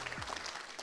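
An audience applauds at the Chatons d'Or 2018 award ceremony, a brief burst of steady clapping that fills the room evenly from start to finish.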